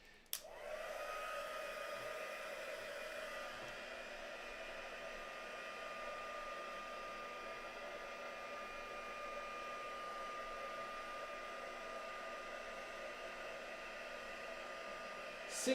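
Hair dryer blowing on craft work: a steady, loud, even whoosh with a constant motor whine, starting with a click and running unbroken until a click at the end.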